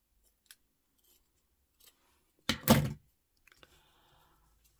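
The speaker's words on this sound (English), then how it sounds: "So I'm going to cut it because I think it's" Scissors making a single crisp cut through paper for a beach-themed junk journal, a close, brief rasping snip amid quiet room tone with a few faint taps before and after.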